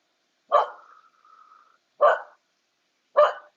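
A pet dog gives three sharp, loud barks spaced about a second and a half apart, with a faint whine trailing after the first, close by in a quiet room.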